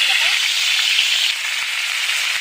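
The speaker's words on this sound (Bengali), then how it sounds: "তেল গরম করে নিয়েছি এরপরে দিয়ে দেবো বাটা" Ground ginger, garlic and onion paste sizzling loudly in hot oil in a wok, a dense, steady close hiss and crackle without a break.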